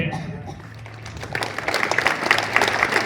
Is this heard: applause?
yes